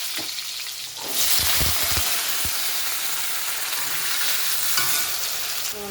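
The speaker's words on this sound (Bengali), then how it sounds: "কালো জিরা শুকনো লঙ্কা ফোড়ন দিয়ে আলুটা একবার দিয়ে দেবো। আলুটা একটু ভেজে নেবো।" Potatoes hit hot oil tempered with black cumin and dried chilli, and a loud, steady sizzle starts up, with several quick scraping knocks of a spatula stirring them in the pan.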